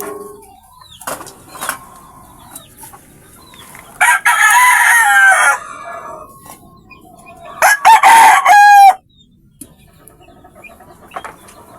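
A talisayin gamefowl rooster crows twice, loud and close, with clucks, rustling and wing flaps in the quiet between the calls.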